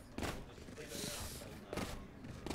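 Gunshots in the tactical shooter Valorant, a few sharp bursty shots spaced across the moment over game background noise, with voices talking in between.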